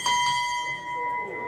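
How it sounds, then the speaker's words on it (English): A bell rung in a tavern gives a single bright clang that rings on with a steady sustained tone, over faint background chatter. "So if you ring the bell, you have to buy everyone around a drink."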